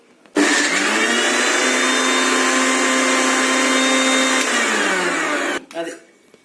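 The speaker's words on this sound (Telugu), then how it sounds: "మిక్సీ చేస్తున్నాను." A mixer grinder whirs loudly and steadily for about five seconds as it blends wood apple chutney with turmeric, jaggery, coriander and green chillies, then stops with a short rattle at the end.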